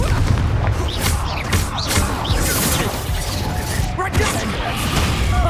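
A Confringo blasting spell explodes in Hogwarts Legacy on PS5, amid loud, dense bursts and crashes of combat that fill the whole stretch, with a voice shouting over the din.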